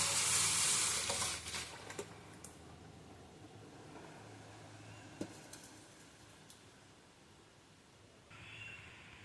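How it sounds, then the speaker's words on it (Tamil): Tamarind mixture poured into a hot pan of fish curry, a loud burst of sizzling at the start that settles into a quieter steady fry and bubble, with a few faint clinks. "இப்போ கரைச்சி வச்சுருக்கிற கரைசலை இதில் ஊற்றிக்கலாம்."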